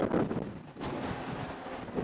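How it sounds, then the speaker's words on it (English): Steady cold wind buffeting the microphone in Quebec City, a continuous low rumbling roar with slight gusts. "It's really cold and windy"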